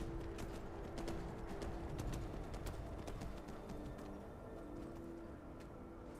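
Horse hooves clip-clopping in the video game Skyrim, a steady rhythmic trot of hoofbeats over a constant ambient background, fairly close and alone with no talk.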